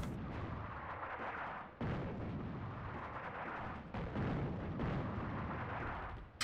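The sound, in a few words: artillery fire in video game Attack at Dawn: North Africa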